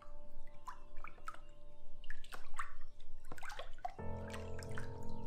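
Paper pulp is stirred by hand in a large container of water while making recycled seed paper at home, giving soft irregular splashes and drips, close and quiet, then a steady trickling pour near the end.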